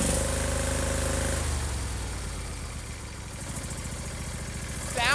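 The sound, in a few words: old John Deere engine running on carburetor gas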